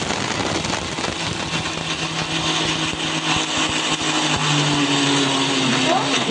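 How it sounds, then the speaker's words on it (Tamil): A kitchen mixer grinder blends coconut, urad dal, green chili and tamarind for coriander chutney, a steady loud whirring motor drone running throughout with a faint rising tone near the end. "மிக்சியில் போட்டு அரைச்சிடுறேன்."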